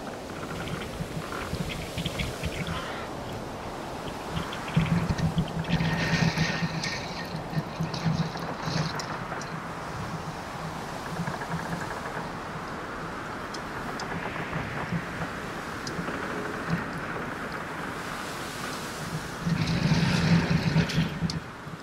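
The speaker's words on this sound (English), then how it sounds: "Wind was gusting up to 50 miles an hour there for a bit" Gale-force wind gusting to 50 mph roars and buffets the microphone at sea aboard a sailboat on the Pacific, with heavy gusts swelling louder near the start and again toward the end, over a low engine drone.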